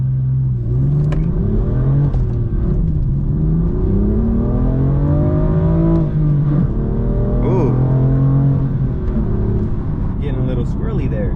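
A BMW M4 F82 Competition launches hard, its engine note climbing through rising harmonics in loud, continuous acceleration with gear shifts and brief wheel squirm, heard from inside the car.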